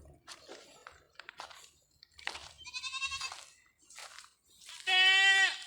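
A goat bleats several times nearby, the cries rising into a loud, long, wavering bleat at the end, with soft crunching chewing between calls.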